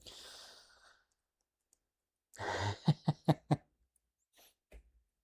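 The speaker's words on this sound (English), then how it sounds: "I'm coughing." A person coughs in a quick run of four or five sharp, close bursts, preceded by a breathy exhale and followed by a couple of softer throat sounds.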